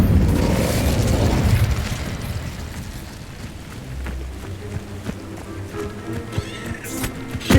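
An Incendio fire spell cast in Hogwarts Legacy bursts as a loud, whooshing blast that fades over a couple of seconds into quieter game sounds with a few soft clicks.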